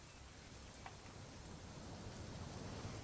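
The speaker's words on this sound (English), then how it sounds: "It's gonna rain the whole weekend, isn't it?" Steady rain falls in the video game What Remains of Edith Finch, a soft, even hiss of drops that stays quiet and constant throughout, with no talking over it.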